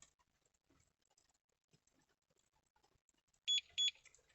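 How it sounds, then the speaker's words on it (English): A Starline i96v2 immobiliser in a Range Rover Sport Hybrid gives one crisp double bleep as it enters valet mode. Two short, close, high beeps follow near-silence with faint handling noises. "Wait till it goes amber, release, you'll get 2 double bleeps and that'll be in Valet Mode."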